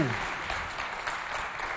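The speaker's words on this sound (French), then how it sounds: "On l'applaudit bien fort." Audience applause at a youth holiday cultural centre event, a short burst of steady clapping from a crowd, fairly close and continuous, with some voices mixed in.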